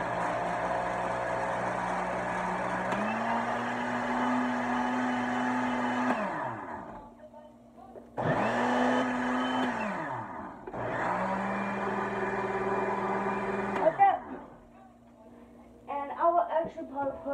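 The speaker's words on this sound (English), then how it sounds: "we're gonna blend that up" A kitchen blender whirring on low speed through mango lassi made with cinnamon, running in three bursts with brief pauses between, with a person talking nearby at the end.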